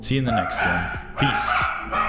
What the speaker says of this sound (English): I greatly apologize for the dogs barking in the background